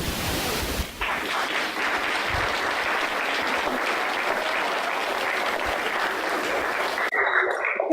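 A large audience at the Dubois STEAM Award 2018 ceremony claps in a dense, sustained roar of applause lasting several seconds before it cuts off abruptly near the end.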